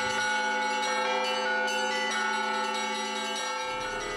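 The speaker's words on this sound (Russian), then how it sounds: "Красивый колокольный звон успокаивает нервы и избавляет от чувства тревоги." The Georgievsky bell tower's church bells ring in a rich, sustained peal, overlapping tones layering steadily and loudly throughout with no voices.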